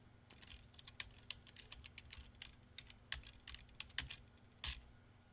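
Keys clatter on a computer keyboard as a name is typed, a quiet run of irregular taps with a few louder strikes, close by and with no voices.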